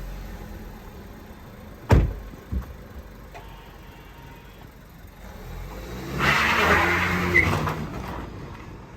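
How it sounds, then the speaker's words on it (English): A repaired, previously wrecked VW Golf on a short test drive: a couple of sharp knocks early on, a steady low running hum, then the engine builds louder for a few seconds before easing off, with no talking. "The car drives perfect on our short little test drive."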